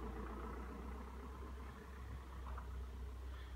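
A car engine idling nearby in a steady low rumble that holds evenly throughout, moderately quiet, with no talk.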